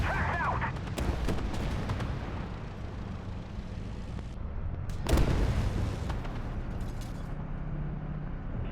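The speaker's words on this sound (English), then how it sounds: "We bounced a couple shots there," Tank cannon rounds in the game Armored Warfare ricocheting off armor during a fight with a tier 6 Abrams, heard as loud booming impacts, the heaviest near the middle, over a steady rumble of engine and battle noise.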